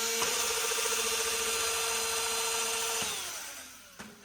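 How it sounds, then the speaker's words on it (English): A DeWalt drill mounted on a pneumatic cylinder in a wheel spoke machine whines steadily and loudly up close, then spins down after about three seconds and ends with a couple of mechanical clunks. "It's a DeWalt drill that I got from the tip shop, and just mounted on a pneumatic cylinder."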